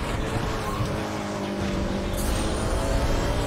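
Audi race car driven in the racing game Need for Speed: The Run, its engine roaring steadily at high revs throughout, with rising and falling tone shifts and a brief tire-squeal hint, no talking.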